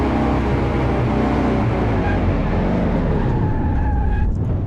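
A car in Car Mechanic Simulator 2018 brakes hard, tires skidding and squealing under a loud, steady engine roar that continues throughout.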